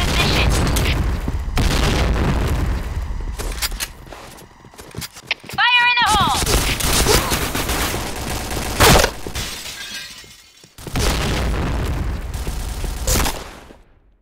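Grenade blasts and gunfire in a multiplayer shooter video game, a string of loud booms and crackling shots with brief drops to near silence between bursts, under a shouted voice callout.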